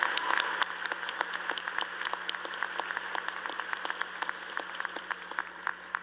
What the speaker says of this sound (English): give them one more round of applause for this significant accomplishment